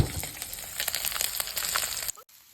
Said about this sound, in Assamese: এয়া মই পিয়াজখিনি ভাজি লৈছোঁ